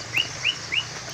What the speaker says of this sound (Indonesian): Itu burung masih banyak di sini.